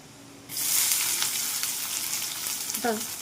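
Onion, garlic, curry leaves, cumin and mustard seeds drop into hot oil in a pan, setting off a sudden loud sizzle that holds steady and close, with a slight stirring scrape near the end.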